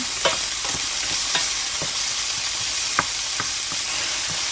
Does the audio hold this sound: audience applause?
no